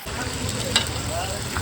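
Green chillies sizzling as they fry in oil at a busy Talaja eatery, a steady broadband hiss with a small crackle near the middle, loud and close, running unbroken throughout.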